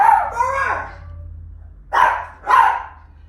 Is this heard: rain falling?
no